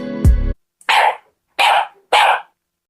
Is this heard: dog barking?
yes